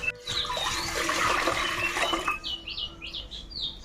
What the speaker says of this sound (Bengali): এই পাত্রের মধ্যে আমি কিছুটা জল দিয়ে দিচ্ছি